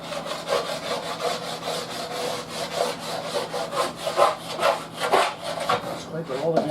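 A scraper drags stripped paint off an oak cabinet in repeated rhythmic strokes, a close, raspy scraping about twice per second, heard alone without talking.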